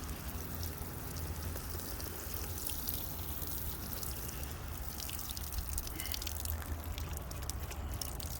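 Rainwater pours softly and steadily onto freshly transplanted sweet potato slips, a faint, even splashing and trickling that continues without a break.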